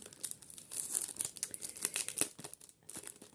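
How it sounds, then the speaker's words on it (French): A handmade package wrapped piece by piece in small plastic pouches being unwrapped, giving close, continuous crinkling and rustling of plastic with small tearing crackles, no talking. "Je vais vous déballer ça."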